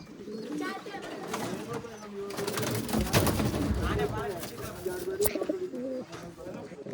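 Pigeons of an old line breed cooing in a loft, soft rolling coos close by, repeated throughout, with someone talking over them.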